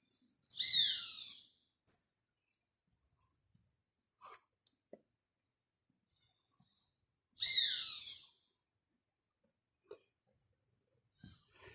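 A wild bird calls in Manuel Antonio park, Costa Rica, with two loud, near, harsh descending calls several seconds apart, plus scattered faint chirps and rustles in a quiet forest setting.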